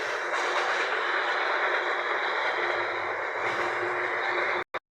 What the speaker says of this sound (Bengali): এই সেই মেট্রো রেল ভাই, এই সেই মেট্রো রেল।